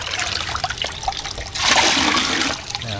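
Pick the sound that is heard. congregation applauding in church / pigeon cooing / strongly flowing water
strongly flowing water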